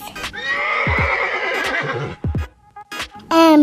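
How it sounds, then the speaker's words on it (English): A horse neighs loudly and close, one long quavering whinny followed by snorts and a few hoof clops, then a short high call at the end. "horse"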